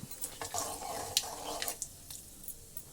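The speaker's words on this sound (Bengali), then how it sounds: "5 ফোড়ন আর লঙ্কাটা হালকা করে ভাজা আমার হয়ে গেছে।" Panch phoron and a dried red chilli broken in two fry in mustard oil, giving a quiet, close sizzle with light stirring scrapes and soft crackles that fade after a couple of seconds.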